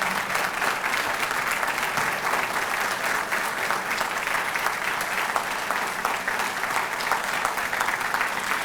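A convocation audience applauds groundskeepers, maintenance workers and facility staff, giving steady, dense clapping that holds loud and unbroken from start to finish.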